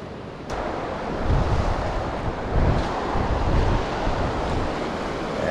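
Steady wind roars and gusts against the microphone outdoors at a mountain spillway, with surging rushes over a constant broadband wash and no voices.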